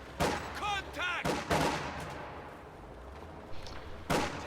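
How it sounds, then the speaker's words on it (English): Infantry gunfire in a video game sounds as a series of sharp, loud shots and bursts, with a ringing ricochet-like whine and a heavy thud near the end. "Infantry shooting at us!"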